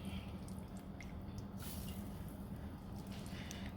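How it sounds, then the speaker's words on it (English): Water poured into a cooking pan of smothered chicken wings over a raised flame, a low steady sizzle and bubbling with scattered drips and splashes, fairly quiet and with no talking. "let's add some water in there"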